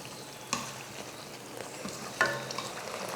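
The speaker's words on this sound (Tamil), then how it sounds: "ஒரு 2-3 நிமிஷத்துக்கு இது போல் நல்லா வதக்கி விட்டுக்கலாம்." Onion masala gravy sautéing in a pan, a faint steady sizzle broken by a couple of sharper scraping stirs of a spoon against the pan.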